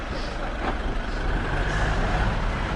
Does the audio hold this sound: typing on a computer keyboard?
no